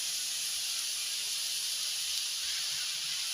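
Seven kinds of mixed leafy greens frying together in a pan give off a steady, even hiss of steam and sizzle that holds unbroken throughout, with no talking.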